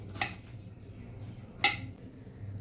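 A knife cuts through watermelon in a home kitchen, making two sharp, crisp knocks against the board about a second and a half apart over quiet background.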